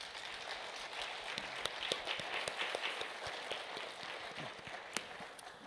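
Audience at a high school band concert applauds, a faint, dense patter of clapping that fills the room steadily with a few sharper claps standing out.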